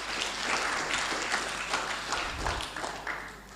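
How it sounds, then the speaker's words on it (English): A conference audience at a health ministers' meeting in Lilongwe, Malawi, applauds: sustained, dense clapping from a large crowd fills the room evenly, then tapers slightly near the end. "Let's give her another round of applause,"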